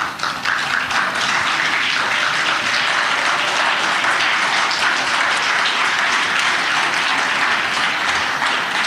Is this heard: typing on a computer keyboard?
no